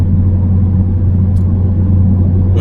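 A 2013 Dodge Challenger SRT8 392 with a Mach X3 cat-back exhaust cruises uphill, giving a steady low droning exhaust rumble heard from inside the car, continuous and fairly loud with no talking.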